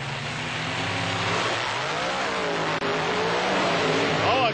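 Bigfoot monster truck racing a black Dodge Rampage truck, engines roaring loud and close in a continuous sustained drone, with a brief dropout midway and a rising rev at the end.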